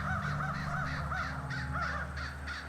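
Several crows caw repeatedly in The Night of the Rabbit video game, harsh rhythmic calls at a moderate distance over a low, steady ambient backdrop, with no talking.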